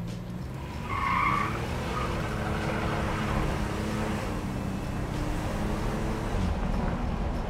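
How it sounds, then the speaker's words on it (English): A stock 1986 Buick Grand National turbo, running only a chip and tune, does a rolling brake-boost launch. The loud engine roar builds, and the tires squeal sharply near the start, then the roar continues steadily. "I'm gonna brake boost it while we're rolling"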